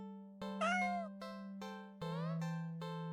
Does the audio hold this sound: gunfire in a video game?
no